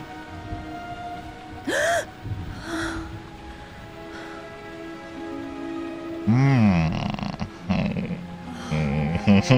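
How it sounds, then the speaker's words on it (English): A cat lets out loud, drawn-out yowls and cries, with several distinct vocal bursts near the end over faint background sound. "My cat was making that noise."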